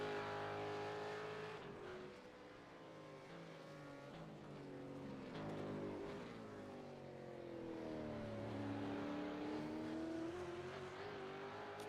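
Race car lapping Bathurst in iRacing, an engine note that falls and rises as the driver lifts off and coasts into braking, steady and moderately loud with no talk.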